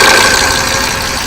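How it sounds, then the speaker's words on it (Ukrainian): A steady engine idles close by, a continuous broadband rumble with a faint tonal whine, holding even for the whole moment with no voices. "Є відсік, моторний відсік і навіть звук мотора"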